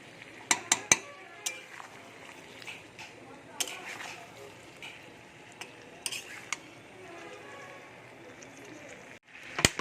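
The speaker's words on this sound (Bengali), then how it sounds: "আলুগুলোকে আগে ভেজে নিয়েছিলাম তারপরে দিয়ে দিয়েছি আর আমি পুরো পনেরো মিনিট ধরে কষাচ্ছি" Mutton curry with pre-fried potatoes being stirred and sautéed in a pot: irregular clinks and scrapes of a spoon against metal over a low sizzling bed, with a voice talking at times.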